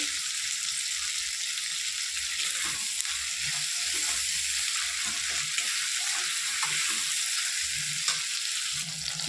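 Tomatoes frying in a pan with chili for vegetarian khichuri, a steady close sizzle running throughout with soft stirring knocks, no talking.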